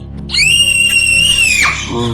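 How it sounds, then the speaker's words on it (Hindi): A loud, piercing scream holds steady for over a second in a horror story about the Granny game. It rises abruptly and then breaks off over a low background. "उनको एक आवाज़ आती है बहुत तेज चीखने की"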